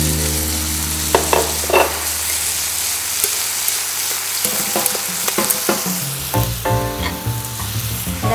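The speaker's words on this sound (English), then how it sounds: "Now I'm going to throw the beef back in there so that it sautés with the vegetables." Beef being sautéed with vegetables in a stir-fry pan for a beef noodle stir-fry, a steady loud sizzle broken by scraping stirs and clanks of the utensil, busier toward the end.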